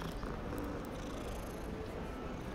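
Cat purring inside the video game Hogwarts Legacy, a steady, dense low rumble that holds evenly throughout with no talking over it.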